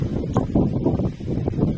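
Cold wind blows outdoors at a fishing spot, buffeting the microphone in uneven low rumbling gusts with some rustling, loud and close, with no talking.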